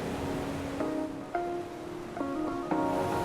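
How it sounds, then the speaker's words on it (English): Ocean waves wash continuously against the shore below a Malibu beach house, a soft steady surf rush with a few faint tonal tings and knocks layered on top. "This ocean constantly, 24/7, 365, never takes a day off. It always delivers a sound to me."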